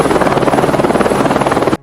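Loud, close helicopter rotor chop pulses rapidly and steadily, then cuts off abruptly at the end.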